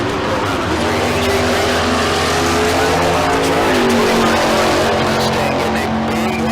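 Drag racing cars, including a Mustang, launching at Tucson Dragway: loud, sustained engine roar with rising and shifting harmonic tones and some tire noise, steady and close throughout.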